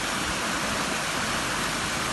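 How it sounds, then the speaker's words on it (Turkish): A stream runs steadily at the head of a creek near a building site where excavation soil is dumped, a constant broadband rush close to the microphone. "Oradan ılgınlara akan derenin başı şu anda bu şekilde akıyor"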